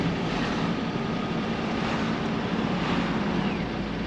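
A 1980 Volvo F7 truck drives steadily, its low engine drone and road rumble mixed with broadband wind noise, loud and continuous throughout with no talking.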